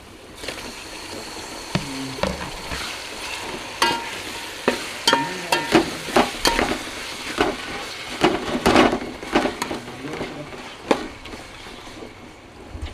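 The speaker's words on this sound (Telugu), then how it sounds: "టమాటా అయితే మంచిగా ఫ్రై కావాలి" Tomatoes fry in a pan for egg dum biryani, with a soft, continuous sizzle broken by repeated scraping and stirring clatters of a utensil against the pan.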